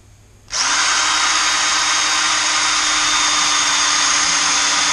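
A power drill fitted with worn, mediocre bits starts abruptly after a short quiet moment, then runs as a loud, steady high whine at constant speed, close by with no talk.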